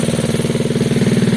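Gilera DNA 125cc motorcycle engine running with its air fuel screw being adjusted, a close, steady, rapid pulsing idle with an even throbbing beat and no voices.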